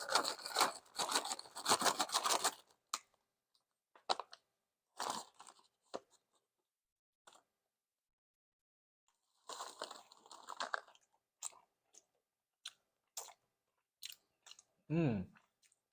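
Sour Patch Kids Trio sour candies crunch and get chewed close to the mic in bursts of wet, crackly mastication separated by quiet pauses, with a brief murmur near the end.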